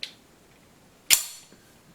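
An M1911 pistol's slide slams shut as the slide stop is pressed, one sharp metallic clack after a faint click, with a small trailing tick, close up and otherwise quiet.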